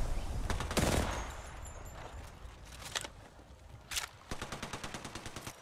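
Gunfire in the Apex Legends battle royale game: bursts of automatic shots, then a rapid run of evenly spaced rounds near the end, loud and close, with a grenade-like blast early on and no talking.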